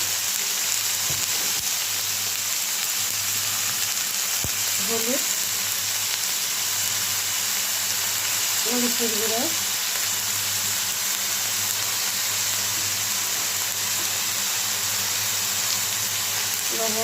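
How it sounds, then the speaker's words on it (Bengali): Onion paste and cumin paste fry in hot oil over a low gas flame, a constant dense sizzle throughout with a couple of clicks and faint brief voices in the background. "তো তেলটা গরম পেঁয়াজ বাটা আর জিরা বাটা দিয়ে দিলাম"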